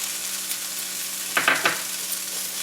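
Drumstick flowers stir-fried with coconut in a pan, giving a steady soft sizzle with a few brief scraping stirs near the middle.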